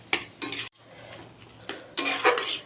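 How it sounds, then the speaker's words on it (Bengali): Ground poppy seed and green chilli paste is stirred in a pan, giving scraping, clinking utensil strokes in short bursts with a pause between, close and fairly loud, no talking. "পোস্তটা দিয়ে ভালো করে নেড়ে চেড়ে নেবো, আর 1-2 মিনিট ফুটিয়ে নেবো"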